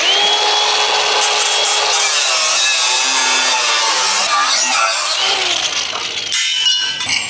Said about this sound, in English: So one step you'll have to do before boxing the frame is cut this center brace